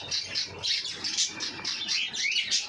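Parrot chicks chirp steadily from a nest in hot weather, a dense run of high, overlapping tweets pulsing in short bursts, fairly close and moderately loud with no talk.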